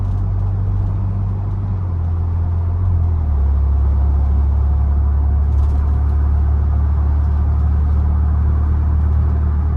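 A 2021 Ford Bronco Badlands with the 2.7-litre turbo engine and 10-speed transmission cruises in eco mode, giving a steady low engine drone and road rumble inside the cabin, with a small drop in pitch partway through.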